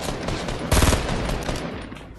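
Rapid burst of automatic weapon fire in the Fortnite battle royale game, a loud dense volley of shots lasting under a second, followed by fainter scattered gunfire.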